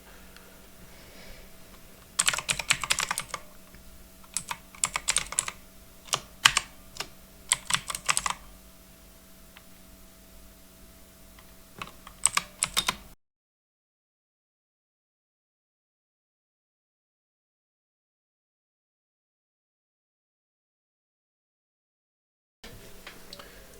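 Bursts of typing on a computer keyboard while a code comment is written in JavaScript, quick clustered keystrokes close and clear over a low steady hum, then a long stretch of silence with faint background returning at the end.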